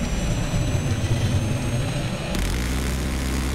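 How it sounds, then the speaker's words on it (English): A hostile jet roars overhead in a combat video game, a loud low rumbling engine drone with a high whine that cuts off abruptly partway, leaving a duller engine hum. "Be on the lookout, spotted a hostile jet."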